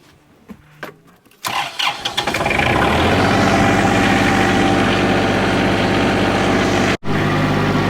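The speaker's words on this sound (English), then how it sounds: "we got to start this tractor" A farm tractor engine starts after a few quiet clicks and sputters, catches with a loud low rumble, and then settles into a steady, close idle.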